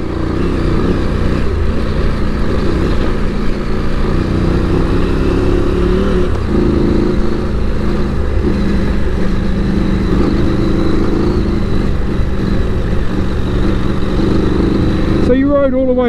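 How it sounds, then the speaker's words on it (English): An adventure motorcycle engine drones steadily and loudly while riding up a rough track on an island route, a constant close hum with slight shifts in pitch, and voices talking over it. "I don't think I'd be doing this without an engine"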